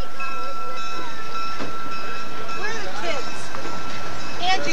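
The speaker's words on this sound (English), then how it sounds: "this is our train being pulled back into Temple for the Tamaqua trip." Rumble of an ALCo switcher locomotive pulling a passenger train back into Temple in rain, 1987, with a high steady engine whine and scattered voices talking nearby.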